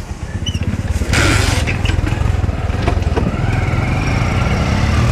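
A motorcycle engine runs up close and loud for a few seconds with a steady, choppy putter and slight rises in revs.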